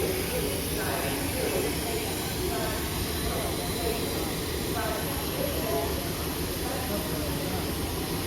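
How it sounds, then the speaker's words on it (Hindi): A train at Danapur railway station in India gives a broad, steady rumble and hiss, loud and unbroken throughout, with faint voices mixed into the station noise. "तो दानापुर रेलवे स्टेशन आप एंजॉय करिए"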